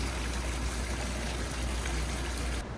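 A steady, close wash of running water flows without pause in a conservatory garden at the Muttart Conservatory pyramid in Edmonton, with no voices and an abrupt cut at the end.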